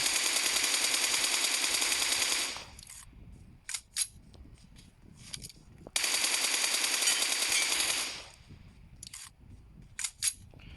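Automatic weapon fire in the video game PUBG: two sustained bursts of rapid gunfire, each lasting a couple of seconds, with scattered single shots and clicks in the quieter gaps between them.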